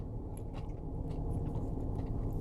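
Crunchy green beans being chewed close up, steady moist crunching and mastication noises running continuously without pause, with no talking over them.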